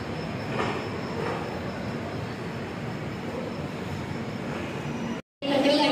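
A train pulls into Jodhpur railway station, its rumbling wheels and carriage noise filling the scene at a steady loud level, then breaking briefly before a tonal squeal or horn-like sound rises near the end.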